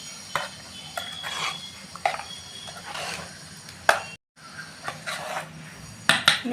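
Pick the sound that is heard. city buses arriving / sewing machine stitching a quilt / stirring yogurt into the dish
stirring yogurt into the dish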